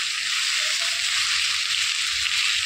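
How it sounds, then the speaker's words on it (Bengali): Potatoes fry in white oil tempered with nigella seeds and a dried red chili, giving a steady, even sizzle that carries through without pause. "সাদা তেল দিয়ে আলু ভাজবো"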